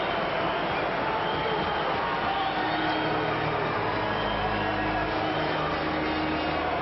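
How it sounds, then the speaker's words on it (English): A crowd at a 1994 Olympic ice hockey game between Canada and Sweden gives a broad, sustained mixed roar of cheers and murmurs that swells slightly midway, with a commentator's voice heard faintly at times. "Well, mixed reactions from the crowd."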